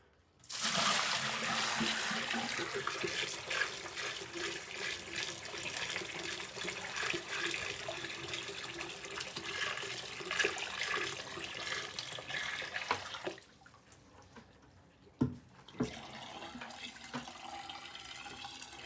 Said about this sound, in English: You want to dump about 4 gallons or 5 gallons of water, however much you can lift, from a 5-gallon bucket